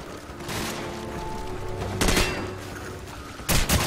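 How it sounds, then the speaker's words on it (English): Sustained gunfire in the video game Call of Duty 4, a steady crackle of shots with louder, sharper bursts standing out at intervals, no talking. "The weapons sound appropriately devastating."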